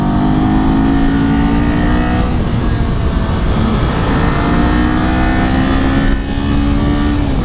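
Kawasaki Z400 motorcycle powering out of a corner, its engine loud and close with rising pitched revs and strong wind rush throughout, a brief dip near the end.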